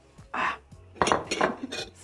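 Dumplings dropped into a saucepan of water, giving a few quick clinks and knocks against the pot, close and moderately loud, with no talk.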